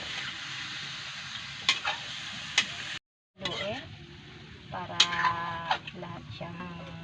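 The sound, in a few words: adobo chino meat stirred while frying until crispy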